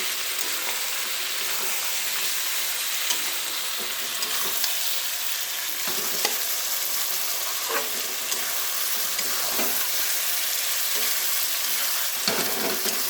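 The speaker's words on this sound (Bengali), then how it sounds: "সামান্য জিরে দিয়ে দিলাম। এবার নেড়ে চেড়ে হালকা হালকা কষে নিই।" Chicken with cumin sizzles steadily in a pan and is sautéed and stirred, a dense constant frying hiss broken by occasional scraping stir strokes, close and loud with no talk.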